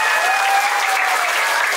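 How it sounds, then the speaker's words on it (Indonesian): A group claps at an English and character camp held at a villa in Cengkareng, Indonesia: dense, continuous applause that holds steady and close throughout. "Tepuk tangan dari Jos untuk PEC."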